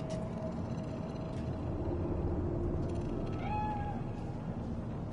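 A cat meowing in the video game Cyberpunk 2077 in Night City, a short rising meow heard midway through over a dense, continuous city rumble and ambient game score.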